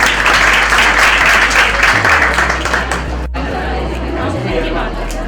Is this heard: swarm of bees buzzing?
no